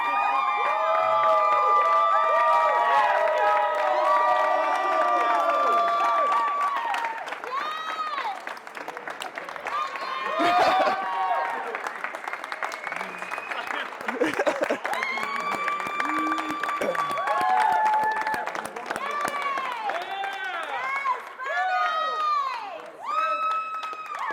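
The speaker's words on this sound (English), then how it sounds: "Everybody, big round of applause." Bootcamp audience gives a big round of applause with loud cheering, whoops and shouted voices over continuous clapping, rising and falling across a long stretch with people calling out throughout.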